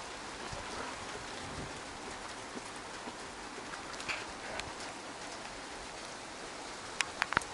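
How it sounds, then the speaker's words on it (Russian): Steady light summer rain patters softly on surfaces, with a few brighter drips near the end and no voices. "Летний дождь."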